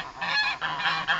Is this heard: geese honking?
yes